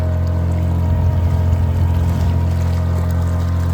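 A diesel engine in a home-built submarine on a surface trial hums loudly and steadily with a low, droning tone, swelling slightly midway as the throttle rises, with water washing faintly beneath.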